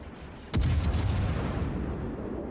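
A World of Warships cruiser, a Myoko, lets off a sudden loud gun salvo: one sharp booming blast with a deep rumbling tail that rolls on and slowly fades, set against steady game ambience.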